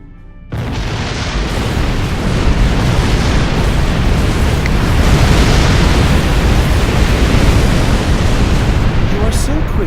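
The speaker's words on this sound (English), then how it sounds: "You are so quick to blow things up." Detonated surface charges in a video game set off a loud explosion with a sudden onset, which turns into a long, dense rumbling roar that holds steady for several seconds.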